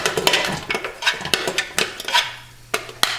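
Carrots tipped into a stovetop pot with a tablespoon of olive oil, heard as a quick run of close, sharp clinks and clatters with a brief quieter gap before a last few knocks.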